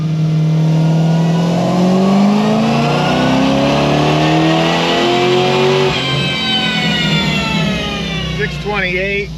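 Supercharged Pontiac G6 GXP engine revving hard through a dyno pull, pitch climbing steadily and loud throughout, then backing off near the end with some supercharger whine; no speech.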